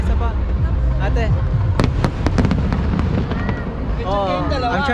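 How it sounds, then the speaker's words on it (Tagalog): Fireworks bursting outdoors during a celebration in the Philippines, a string of sharp cracks and pops around the middle, set within dense crowd noise and people talking nearby. "Oh, I'm trying to get the fireworks."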